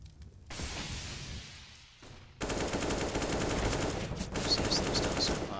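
Sustained automatic rifle fire, AK-style, crackles through an amateur-league esports shooter match after a short quiet stretch, with loud continuous bursts filling most of the clip.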